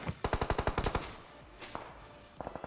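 Enemy gunfire in an online shooting game: a rapid, loud burst of about ten evenly spaced shots, then a pause and a few scattered distant cracks.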